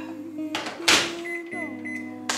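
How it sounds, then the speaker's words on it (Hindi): A microwave oven hums steadily while heating cream in a coffee cup, with clunks and beeps of the door and keypad breaking in before the hum resumes, close by in a kitchen. "सो अब इसे मैं माइक्रोवेव में हीट कर लूँगी अराउंड 1 मिनट"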